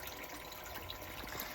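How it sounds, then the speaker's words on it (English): Water from a small garden waterfall runs steadily into a pond, a soft continuous trickle and splash that stays quiet and even, heard up close with no voices. "All the fish have gone to hide from the waterfall and me with the camera."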